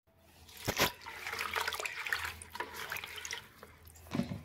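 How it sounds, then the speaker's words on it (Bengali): Bel leaves washed by hand under a running tap, with steady splashing water and irregular bursts of dripping and rinsing close by. "এখন বেলপাতাগুলো সব ধুয়ে ধুয়ে রাখছি, বেলপাতার মধ্যে প্রচণ্ড নোংরা থাকে।"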